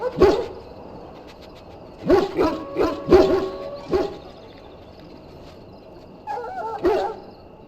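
A Mabari war hound in Dragon Age: Origins, sick after swallowing darkspawn blood, gives several whimpers and whines in a close cluster, then a short pause and two more plaintive whines at the end.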